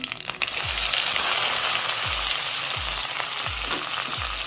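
Onions sizzling and frying in hot oil with cumin, fenugreek and mustard seeds for a Tamil tamarind curry, a steady loud crackle with a few soft stirring scrapes, close up and with no voices.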